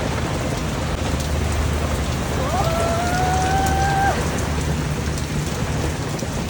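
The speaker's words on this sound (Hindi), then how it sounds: "मज़े की ठंडी ठंडी बारिश है।" Steady, dense rainfall from a heavy storm in Lahore hisses close by for the whole stretch, with a brief tonal whine rising over it midway; no distinct thunderclap stands out.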